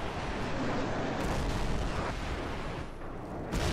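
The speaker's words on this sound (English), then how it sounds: "Airstrike standing by." Airstrike explosions in Call of Duty 4 roll in as dense, sustained booming and rumbling, loud and close, with no voices over the blasts.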